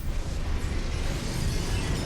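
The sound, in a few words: explosion in the video game CloudPunk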